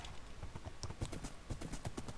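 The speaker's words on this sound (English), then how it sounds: "This horse here is the fastest one I've found so far." Horse hooves clip-clopping in the Minecraft video game, a steady run of light, evenly spaced hoof clops at moderate volume with no talking.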